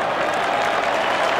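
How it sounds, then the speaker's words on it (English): A football crowd of Tigers supporters at the MCG applauds loudly as a player leaves the ground during an AFL match, a steady wash of clapping and cheering throughout. "he's gone forward as Michael Gale comes off the ground to the rapturous applause of the Tigers"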